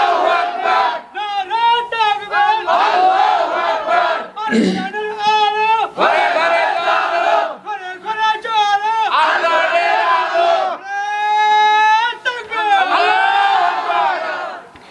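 A large crowd at a Bengali Islamic religious gathering repeatedly roars the takbir in unison, loud rhythmic shouted bursts separated by brief pauses, filling the space with massed voices.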